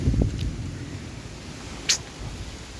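Strong stormy wind buffets the microphone outdoors under dark clouds, a constant low rumbling roar with a brief gusting burst near the end.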